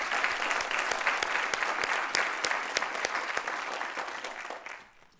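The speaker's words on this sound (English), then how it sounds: "I just want to give just one more round of applause and show our gratitude to Jimmy and Tay" A conference audience breaks into a sustained round of applause, dense and even at first, then gradually thinning and fading toward the end.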